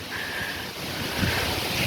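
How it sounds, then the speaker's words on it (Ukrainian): Steady wind blowing across the microphone in a park, a continuous broadband rush with low rumbling gusts, fairly loud and constant throughout. "такий вітер якийсь підіймається"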